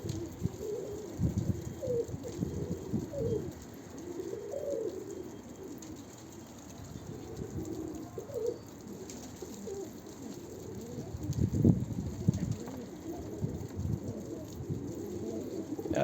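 Pigeons or doves coo repeatedly at close range, low throaty calls in loose irregular phrases over a faint steady background hum.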